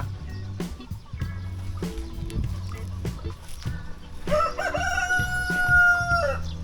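A rooster crows loudly and close, a long drawn-out call near the end, after scattered clucking and other fowl sounds.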